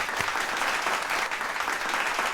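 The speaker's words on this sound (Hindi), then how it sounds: "जोरदार तालियों से एक बार फिर से ओम शांति।" Audience applause at a World Environment Day poetry event, a steady dense wash of clapping that fills the whole moment with no voices over it.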